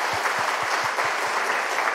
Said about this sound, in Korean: 우리 하나님께 영광의 박수 한번 올려드립니다